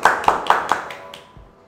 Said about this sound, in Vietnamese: Mọi người cùng vỗ tay nào